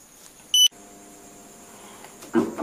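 A heat press timer in a small home packing and printing workshop gives one short, sharp electronic beep, followed by a low steady hum and a brief louder sound at the end.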